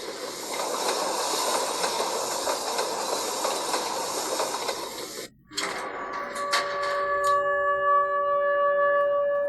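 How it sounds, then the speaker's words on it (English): A train rolls along steadily with a broad hiss and rumble in the Garten of Banban 8 video game, then cuts out abruptly and gives way to quieter mechanical tones and ringing hums as it comes to a stop. "Why'd the train stop?"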